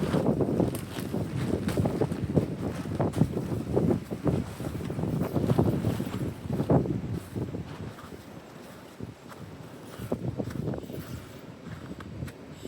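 Strong, cold wind blows outdoors at 36 degrees, buffeting the microphone with a constant gusty rumble and flutter that rises and falls across the whole stretch, with no voices.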